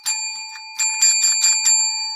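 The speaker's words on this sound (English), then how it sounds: "Oh, we're ringing that bell." A small bell rings close by in a rapid series of bright, sustained metallic strikes, a short burst followed by several quick repeated rings.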